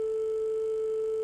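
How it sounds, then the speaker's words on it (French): A single steady electronic telephone ring tone, the first ring of a call on a 1991 French television broadcast, heard alone and fairly loud. "Première sonnerie."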